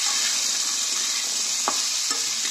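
Spinach fries in a pan with salt and turmeric, a bright continuous sizzle punctuated by a few short scraping stirs of a spatula, with no talking.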